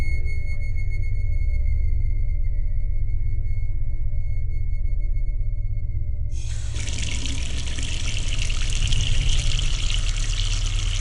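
Water runs from a tap in an old mansion, a steady gush that begins loudly partway through after a quieter tonal opening, continuing to the end without any talk.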